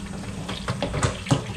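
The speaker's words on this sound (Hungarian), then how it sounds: "ide jövünk, hideg víz. Szépen lassan folyatjuk rá." Cold tap water runs slowly over a T-bone steak grilled on a charcoal grill, a soft close trickle with uneven splashes and drips across a second and a half.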